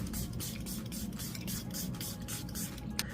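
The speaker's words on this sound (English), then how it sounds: "I'm going to go ahead and spray my face with my Maybelline matte setting spray" A steady hiss of fine Maybelline matte setting spray mist held for several seconds, broad and airy, close by, sprayed onto a face, ending with a small click.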